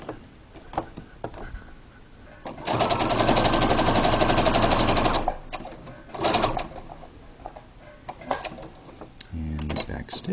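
A sewing machine stitches a homemade fabric face mask in a loud, fast whirring run of about two and a half seconds, with shorter bursts around it and some quiet handling noise between.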